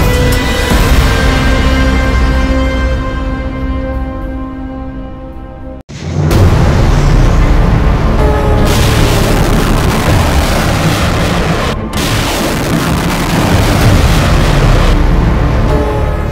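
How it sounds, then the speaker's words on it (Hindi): Iranian missiles launching and exploding give a loud, continuous roaring rush that cuts out briefly, then bursts back with broad booming blasts and a dense rumble, heard close with no voices. "ईरान ने अब इजराइल पर जवाबी हमले के लिए अपनी सबसे खतरनाक मिसाइल फायर करनी शुरू कर दी है।"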